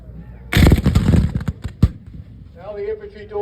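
Infantry musket fire at a Gettysburg battle reenactment erupts in a loud, ragged volley of overlapping shots, then a few separate sharp reports, before fading as a voice speaks over the tail.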